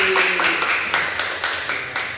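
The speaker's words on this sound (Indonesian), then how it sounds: "tepuk tangan buat Jaki." A small group in a classroom claps together at close range, giving a brief, light burst of uneven claps with a faint voice underneath.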